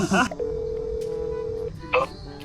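A phone being dialed to make a call: one sustained electronic tone lasting over a second, framed by brief bursts of voices before and after.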